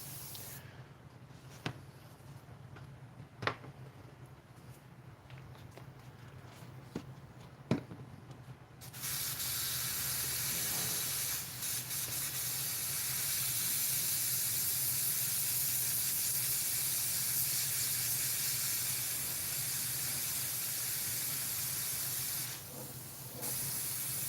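Spray paint mists onto a Wolverine model in a loud, steady airy hiss that kicks in suddenly after a quiet stretch with a few sharp clicks, holds for about thirteen seconds, then cuts off briefly before resuming.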